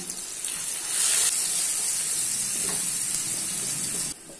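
Onion paste and ginger garlic paste frying in oil over a medium flame for aloo gobi, a loud steady sizzle with occasional stirring that cuts off abruptly near the end.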